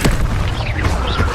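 A cast of the Expelliarmus spell in Hogwarts Legacy: a loud, close burst at the onset that trails into a swirling magical whoosh, heard alone.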